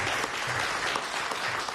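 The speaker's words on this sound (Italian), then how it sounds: "raccogliamo un applauso" A crowd at a Treviso event gives a sustained round of applause for a woman doctor heading the ULSS 1 Dolomiti health authority, with dense, even clapping heard from some distance.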